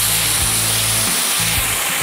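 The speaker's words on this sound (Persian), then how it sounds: "نحوه سمپاشه این لانس ها رو میشه با چرخوندن دسته اون تنظیم کرد." An adjustable pesticide sprayer lance gives a loud, continuous hissing spray close by, a steady broadband rush that lasts the whole clip, with a low motor hum underneath that cuts in and out.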